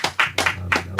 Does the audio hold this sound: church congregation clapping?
yes